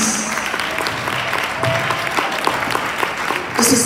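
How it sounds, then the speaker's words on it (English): A congregation claps hands in praise at a night session of a music and fine arts church conference, steady loud clapping with scattered voices and a brief musical sound near the end. "Can you just put your hands together and give God a hand clap of praise?"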